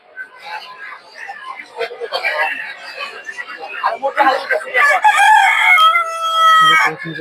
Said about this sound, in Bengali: এটা পাহাড়ি মোরগ দেখতে পাচ্ছেন একটা